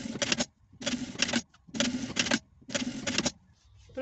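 Four short bursts of a sewing machine stitching the side seams of a fabric bag, each about half a second long with even pauses between, close and clear with no talking.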